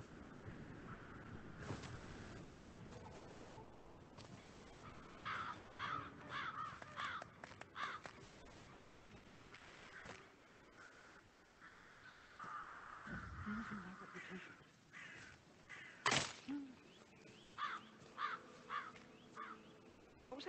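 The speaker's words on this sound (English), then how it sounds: "I'll never get rid of those stupid birds." Crows caw repeatedly in the Hitman 3 video game, with harsh calls recurring at irregular intervals over a faint wind-like background.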